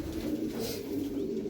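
Racing pigeons coo in a loft, a close, soft, continuous murmur of overlapping throaty coos with no voices.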